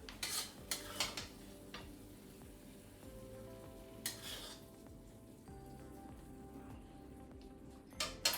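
Baingan bharta, a mashed aubergine dish, served out of a pot with a metal spoon, giving a few sharp clinks and scrapes of utensil on cookware at the start and end, with a quiet kitchen hum between.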